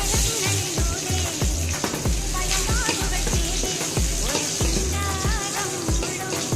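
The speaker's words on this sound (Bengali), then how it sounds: "রসুনটাকে লাল করে ভেজে নেওয়া পর্যন্ত অপেক্ষা করব" Chopped garlic and dried red chillies fry in hot oil for a spinach dish, a loud steady sizzle with repeated scraping stirs and clatter close by.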